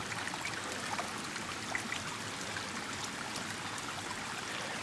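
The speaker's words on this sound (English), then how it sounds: "look at the amount of water that comes out of that pipe" Rainwater gushes from a drainage pipe after heavy rain, a steady broadband rush and trickle of flowing water at an even level throughout, with no voices.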